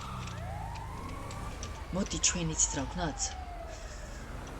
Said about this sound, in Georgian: მალე, ვაი, პოლიციის ხმა ისმის.